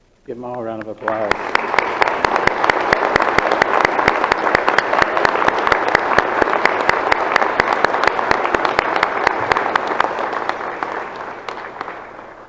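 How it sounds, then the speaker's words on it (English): Audience applause at a December nursing pinning ceremony at Allegany College, a dense sustained burst of clapping that starts abruptly after a brief voice and continues loudly for about eleven seconds before tapering. "Give them all a round of applause."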